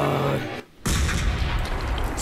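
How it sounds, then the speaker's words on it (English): A loud, booming blast from the sci-fi shooter Mass Effect 2 breaks in after a short dip, with a dense rumble of gunfire and debris filling the rest of the moment. "Explosion!"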